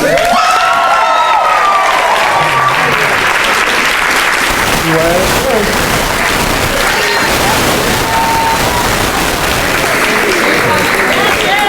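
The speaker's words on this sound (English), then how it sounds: "Another applause for her" An audience applauding at a weigh-out event, sustained dense clapping and some cheering filling the whole stretch, loud and close, with a voice speaking over it in places.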